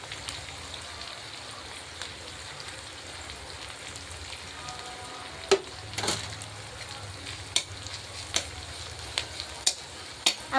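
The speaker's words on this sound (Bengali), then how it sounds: "হালকা নেড়ে নিলাম তেলে" Ginger garlic paste fries in oil with a faint, steady sizzle, and several sharp clicks of a stirring utensil grow more frequent toward the end.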